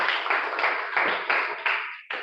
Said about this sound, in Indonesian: kita tepuk tangan untuk kalian semua